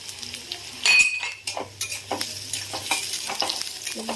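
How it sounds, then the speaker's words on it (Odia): Onions and garlic fry in a pan with a bright, steady sizzle, broken by frequent stirring scrapes and a few sharp metallic clinks of the spoon against the pan; nobody talks. "ପିଆଜ ଟିକେ ଭାଜି ହେଇଗଲାଣି। ଏବେ ଟିକେ ରସୁଣ ପକେଇଦେବା।"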